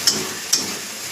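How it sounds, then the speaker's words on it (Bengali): Ground spices with turmeric, tomato and salt sizzling in a pan as they fry, a close steady hiss with two sharp ticking stirs. "ভালো করে ভাজবো আমি মশলাটাকে।"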